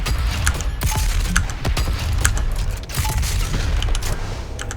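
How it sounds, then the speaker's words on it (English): Super shotgun blasts in Doom Eternal, loud booming shots fired in rapid succession with mechanical clatter between them, dense and continuous over a heavy low rumble, no voices. "I could fire the super shotgun a lot faster"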